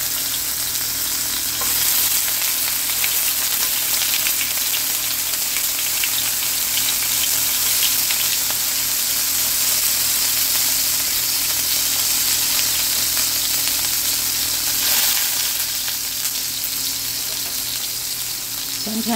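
Frozen green and red peppers and white onion with ice crystals hit a hot pan and fry with a loud, continuous sizzle and crackling splatter for a stir fry, steady throughout with occasional stirring.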